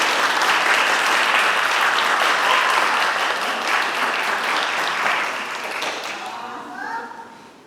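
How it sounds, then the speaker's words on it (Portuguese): Sustained audience applause at a community cultural night with an awards ceremony in Porto Amazonas, loud and dense throughout, tapering off near the end as a few voices emerge. "eu gostaria de pedir a todos uma salva de palmas"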